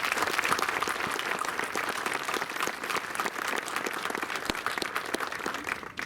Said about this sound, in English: So let's hear a round of applause